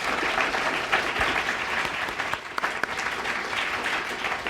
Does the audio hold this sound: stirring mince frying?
no